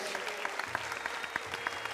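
Wedding guests keep up a round of applause for Mr. and Mrs. Gohil, with dense clapping from a crowd and a few louder claps close by, all blending into a continuous wash of sound.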